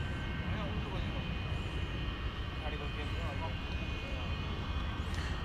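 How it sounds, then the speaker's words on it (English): A UPS Airbus A300 pushes back from its airport gate, a steady loud engine rumble and whine filling the air while a voice talks over it. "A300 is now backing out from its position just in front of our camera position."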